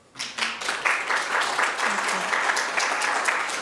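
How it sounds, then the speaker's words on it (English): A lecture audience breaks into applause for the speaker, swelling quickly from near silence into sustained clapping by many hands, with some voices audible underneath. "Let's give her a round of applause."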